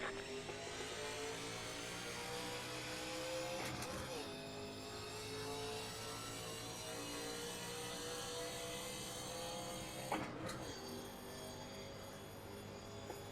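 NASCAR Legends race cars accelerating at Daytona in the iRacing video game, a sustained engine drone with rising revs and two sharp shifts or passes, under a voice talking throughout.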